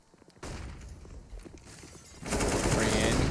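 Rapid bursts of rifle fire crack during a Counter-Strike match, with shots and footsteps giving way to a dense, louder volley of gunfire near the end, while a caster's commentary runs faintly underneath.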